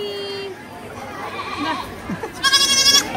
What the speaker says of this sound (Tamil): ஆட்டுக்குட்டி.